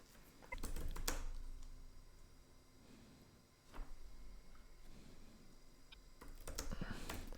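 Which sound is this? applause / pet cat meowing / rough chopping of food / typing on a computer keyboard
typing on a computer keyboard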